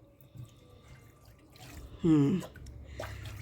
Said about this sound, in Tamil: இன்னும் ஒரு தடவை நம்ம இந்த ஹாட் வாட்டரை ஊற்றி பார்க்கலாம்.